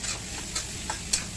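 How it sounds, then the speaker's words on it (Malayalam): Onions being stirred and sautéed in a pan for chopsuey chicken, a soft quiet sizzle with a few light scraping stirs of the spoon, close and faint, no voices. "സബോള കുറേശ്ശിട്ട് കൊടുക്കുക. എന്നിട്ട് നന്നായിട്ട് മിക്സ് ചെയ്യുക."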